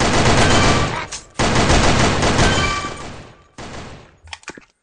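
Rapid automatic gunfire rattles in long continuous bursts in the Sudden Attack shooting game, loud and close, with brief gaps between volleys and a few scattered single shots at the end.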